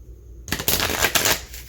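A tarot card deck is shuffled by hand: after a short stretch of near silence, a loud close riffle of cards fluttering together, with a few sharper slaps in the clattering run, and no talking.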